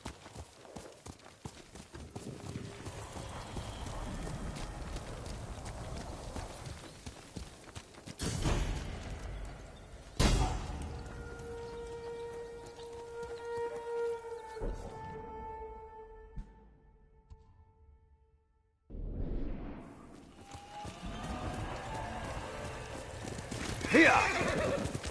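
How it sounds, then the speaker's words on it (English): Horse in the video game Ghost of Tsushima whinnies loudly in several clear calls amid galloping hoofbeats and game ambience, with a sharp thump, a short quiet gap and a brief voice near the end. "You're a good horse, Noble."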